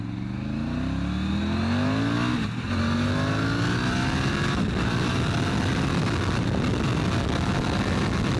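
A 2020 Triumph Tiger 900 motorcycle is ridden on the road, its engine loud and steady throughout with rising and falling revs and gear changes, heavy wind rush underneath and no talk.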